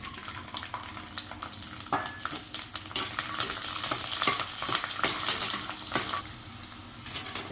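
Garlic cloves frying in oil in a pan for a garlic kulambu, sizzling steadily while a metal spoon clinks and scrapes against the pan at irregular moments, close and moderately loud.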